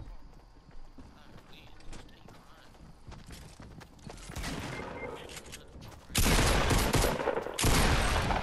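Gunfire in the video game Fortnite builds from scattered shots under faint voices into dense, loud bursts of rapid fire in the last couple of seconds.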